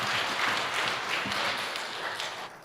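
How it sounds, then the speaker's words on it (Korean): A church congregation applauding during a Sunday worship service, a steady, fairly quiet wash of many hands clapping at once, with no voices. "큰 박수로 하나님께 같이 영광을 돌리겠습니다"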